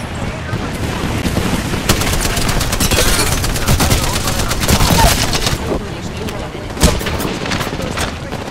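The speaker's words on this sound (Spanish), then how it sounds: "Activa la vieja bomba de racimo." Cluster bomb blasts in Apex Legends go off as a dense, loud barrage of overlapping bangs and crackles over several seconds, with intermittent sharper reports, amid chaotic battle noise.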